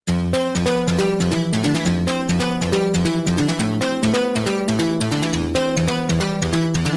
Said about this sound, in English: The main synth sounds like this.